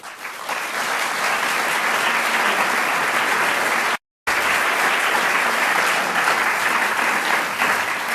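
Sustained, loud audience applause welcoming design lecturer Chip Kidd to the stage at the Walker Art Center, dense even clapping from a large crowd that continues for about eight seconds, broken by a brief dropout midway.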